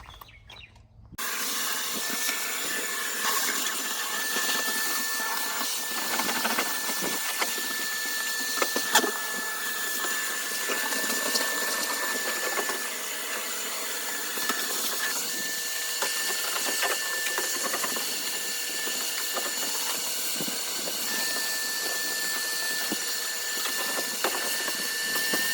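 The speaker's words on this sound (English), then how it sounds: "Vacuuming out all the rust." Vacuum cleaner sucking rust out of an old car bought as a Father's Day project, a steady rushing hiss with a thin whine that starts abruptly and runs on without a break.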